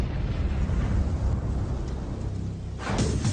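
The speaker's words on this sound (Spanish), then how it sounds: "Se le llama soldadura de explosión." A powerful explosion welding blast set off deep underground rumbles as a heavy, sustained low boom, then a sharper burst of crackling debris near the end.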